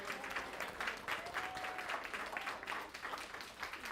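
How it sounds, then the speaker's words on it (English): Audience at a church service claps for a singer after a song, producing a steady round of applause from a moderate crowd that carries on throughout, with a faint voice briefly audible underneath. "Let's give her another round of applause."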